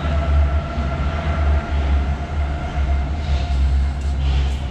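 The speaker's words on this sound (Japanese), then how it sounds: "ポツダム広場駅から地下鉄2番 U2 に乗って、動物園" Berlin U-Bahn U2 subway train from Potsdamer Platz running steadily, a continuous low rumble with a faint tonal whine, loud and close with no talk.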